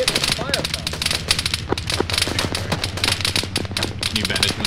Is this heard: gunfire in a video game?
yes